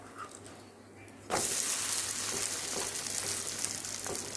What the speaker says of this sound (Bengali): এবার ওপর থেকে একটু তেল দিয়ে দিচ্ছি, যাতে এই পিঠটা যখন উল্টাবো সেটাও যেন ভালো করে ভাজা হয়।